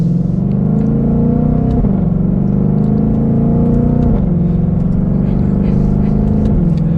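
A 2022 Ford Mustang Shelby GT500 Carbon Fiber Track Pack with a dual-clutch gearbox pulls forward under moderate throttle, its deep engine and exhaust rising in steady pitch sweeps broken by quick gear changes, loud and close throughout.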